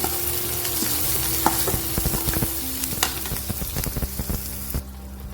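Onions sautéed in a pan for Maharashtrian stuffed chillies, a continuous close sizzle with scattered scraping and stirring knocks, fading toward the end, no talk.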